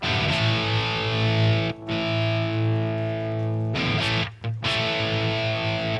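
A fizzy, buzzing distorted electric guitar tone from an amp sim plugin plays loud and sustained chords, with brief breaks between strums.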